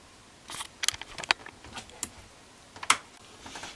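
A push button driving a 12 volt relay circuit clicks in a handful of sharp, isolated snaps at irregular intervals, close and crisp over a quiet background.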